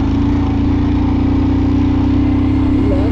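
Motorcycle engine labouring in first gear up a steep off-road Himalayan mountain trail, a loud, steady droning hum running close and continuous throughout with no talk.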